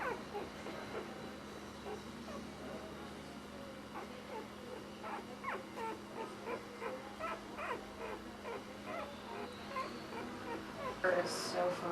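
A sleeping puppy whimpers faintly while dreaming, giving soft, quiet yips and whines in an irregular series against a hushed indoor background.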